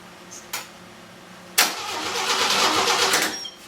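A car engine fitted with a budget turbo cranks, catches and starts, then revs up and holds a rising roar, nearby with no talking.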